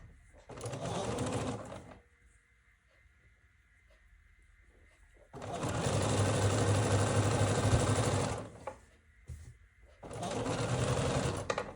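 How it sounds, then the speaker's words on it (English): A sewing machine stitching quilt fabric pieces together, three loud bursts of rapid mechanical whirring separated by quiet pauses, with a faint steady hum between runs. "let's sew these two together"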